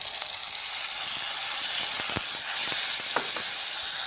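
Masala spice paste sizzles and fries steadily in a pan, a continuous close hiss with scattered crackles and a few faint stirring clicks.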